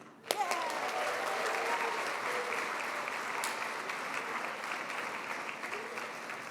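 Breakfast forum audience bursting into sustained applause and cheering for arriving speakers, dense clapping that holds steady for several seconds.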